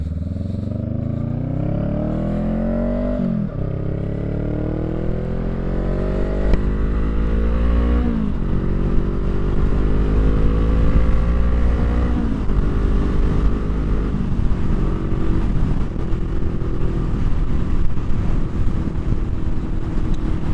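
A 2021 Honda Rebel 500 SE motorcycle fitted with a Two Brothers exhaust being ridden on a cool day, its engine loud and near as it rises and falls through several gear changes, with steady wind noise over the microphone and no talking.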